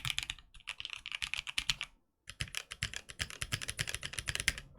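Fast, steady typing on a mechanical keyboard fitted with Boba linear prototype switches in an O-ring mounted build, dense close keystrokes with a brief pause midway, no talking.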